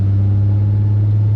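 A 2012 Nissan GT-R engine drones with a loud, steady low rumble from inside the cabin, a sustained deep tone with no talking over it.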